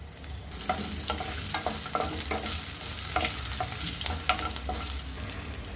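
Shallots, curry leaves and garlic sautéing in a pan, a steady crackling sizzle with repeated scraping stirs throughout, close and moderately loud with no talking.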